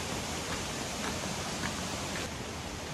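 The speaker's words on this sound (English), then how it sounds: "this is the waterfall from above" Waterfall on a jungle hike near Patong, Thailand, in the rainy season, heard from above as a steady broadband rush of falling water with no voices.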